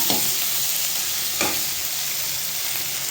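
Masala frying in a pan with roasted cumin powder, shown as a steady, close sizzle broken by two brief stirring scrapes, one at the start and one midway, with no speech.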